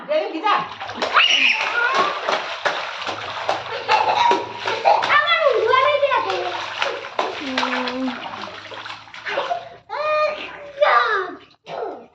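Water splashing and pouring while a small child is bathed, uneven sloshes and trickles mixed with a voice and an adult talking throughout.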